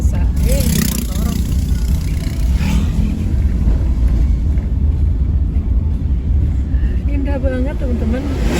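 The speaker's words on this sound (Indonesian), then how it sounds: "Ini motor." Motorbike riding near Curug Tilu Cipelah in Rancabali, with a steady engine rumble and wind buffeting the microphone throughout, while people talk over the noise.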